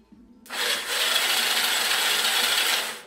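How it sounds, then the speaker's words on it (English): The starter of a 1981 Honda C70 Super Cub, rebuilt and shorted directly, spins the motor over with a steady, loud, raspy whir that begins abruptly and holds for about two and a half seconds before easing off. "you can hear that the starter is actually turning the motor over now"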